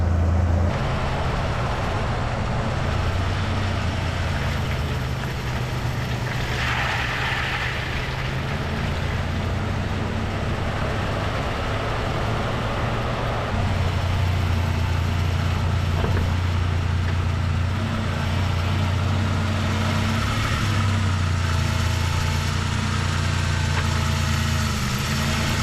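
A second-generation Toyota 4Runner engine drones steadily while driving on a test drive, a constant low rumble with slight shifts in pitch, close and sustained with no talk.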